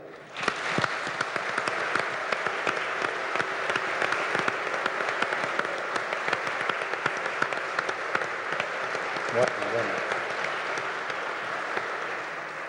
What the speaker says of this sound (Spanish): yo quiero que le brindemos un gran aplauso a todos los organizadores de esta maravillosa actividad